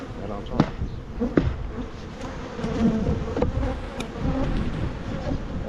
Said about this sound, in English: just shake these bees right on top